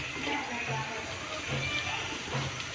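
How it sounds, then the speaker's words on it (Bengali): Water poured into a pot of fish-head moong dal makes a steady gushing splash that runs through the whole stretch at moderate loudness, heard close with no talk. "বন্ধুরা এর মধ্যে পরিমাণ মতো জল দিয়ে দেব।"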